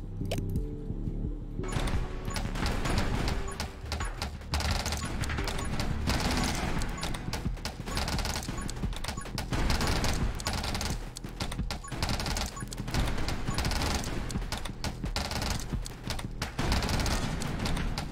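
Grenade launcher and black hole weapons fire continuously in 20 Minutes Till Dawn, a relentless barrage of rapid blasts and bursts over game music, loud throughout with no talking.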